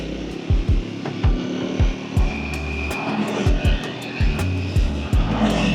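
A Triumph Speed 400 motorcycle engine revs under riding wind noise, with its pitch rising and falling repeatedly in short surges as it climbs through the rev range, heard close and fairly loud.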